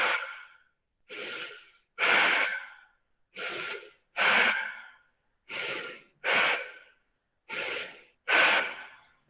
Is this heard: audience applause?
no